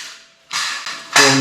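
A wrench loosening the gas tank bolt on a 2005 Kawasaki ZX-636 motorcycle, three short close ratcheting bursts, each clicking turn louder than the last, with no talk.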